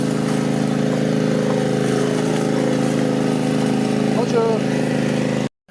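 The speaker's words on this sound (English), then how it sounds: "Lawnmower man." A lawn mower engine drones steadily and loudly nearby along a hiking trail in Quebec, holding an even running tone before cutting off abruptly near the end.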